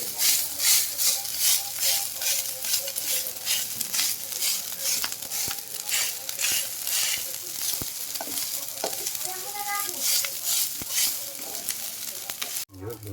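Sinangag (Filipino fried rice) sizzles and crackles in a hot pan while a spatula stirs and scrapes it, a steady close frying hiss with occasional sharper taps and no talking.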